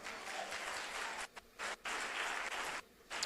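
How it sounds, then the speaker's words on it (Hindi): A church congregation in Bareilly applauds during a worship service: a full, fairly soft round of clapping with a few brief dips, and no voices on top. "ताली नहीं बजाएंगे?"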